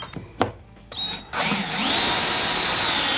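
A power drill drives into the wall while mounting a corner bracket, starting with a few short trigger bursts and then a steady high whine.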